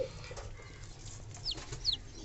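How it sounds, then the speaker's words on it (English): Chicken in a pigeon loft clucking softly at close range, a few short clucks and chirps over a low background of rustling and murmur, no talking. "This is actually chicken."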